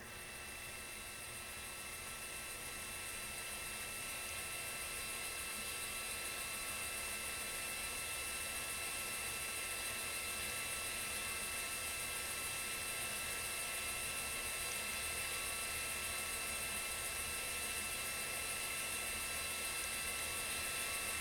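An Atlas V rocket launching Boeing's Starliner from Cape Canaveral produces a distant, faint, continuous roar that slowly builds in strength and holds steady throughout.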